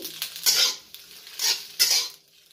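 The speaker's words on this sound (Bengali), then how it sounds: "পাস্তাটাকে একটু নাড়াচাড়া করে নেব।" Macaroni pasta is stirred in a pot, making three distinct scraping, clinking strokes of a utensil against metal, close and moderately loud with short pauses between.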